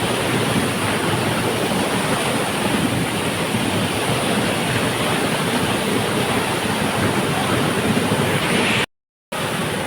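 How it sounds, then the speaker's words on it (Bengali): Roaring water of the Seven Sisters waterfall in North Sikkim, a dense, loud, continuous broadband rush heard up close, steady throughout with a momentary dropout near the end. "7 সিস্টার ওয়াটারফলসের একদম সামনে আছি। জলের সাউন্ডে আর আমার কথা কিছু শোনা যাচ্ছে না।"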